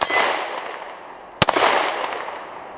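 Shots from a Ruger Max 9 pistol ring out at an outdoor range aimed at a rack of steel targets: a sharp crack near the start, then a loud close report at about 1.4 seconds, each followed by a long fading ring.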